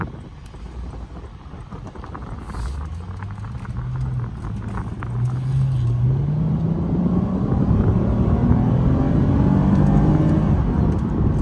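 A 2014 Lexus IS350 F Sport's naturally aspirated 3.5-liter V6 hums low, then revs up smoothly with a rising tone, steady and fairly loud, with some wind noise over it.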